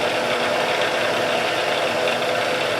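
A drilling machine running at 100 RPM with plenty of oil and heavy downfeed, boring a grader blade scraper with an HSS bit, giving a steady, loud mechanical hum and rattle throughout.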